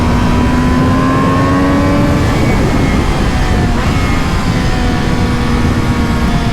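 An MV Agusta Brutale Dragster 800 RR naked motorcycle rides a back road, its engine giving a loud, continuous whine that rises and falls through gears along with heavy rumble.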